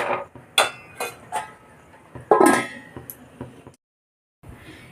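A spoon clinks and scrapes against a pan while spices are stirred for Bengali aloo dum, several short metallic knocks, then a lid clanks down and the sound stops.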